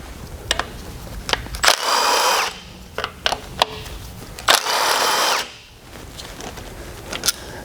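A power tool spins out two 10mm bolts from a Chrysler 3.2/3.6 thermostat housing in two loud, close bursts of whirring, separated by scattered clicks and handling knocks.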